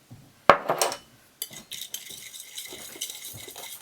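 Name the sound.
mixing egg tempera pigment with binder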